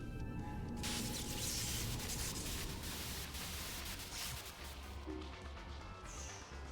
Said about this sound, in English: White noise on the screen will signal the start of battle.